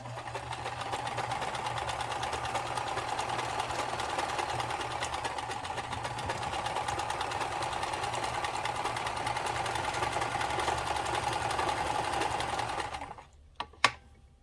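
A Kenmore 158.13400 sewing machine sews a stretch stitch, a steady close mechanical whir with rapid needle ticking that runs unbroken for most of the time, then stops with a couple of sharp clicks.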